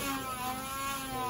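The small electric motor of a remote control tank whirs steadily with a high, even hum as it revs up, running continuously for a moment with no voices present.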